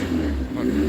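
A car engine at a Las Vegas cars and coffee meet, said to resemble a Nissan Skyline, holds a steady droning rev with a strong low hum for about a second, close and fairly loud.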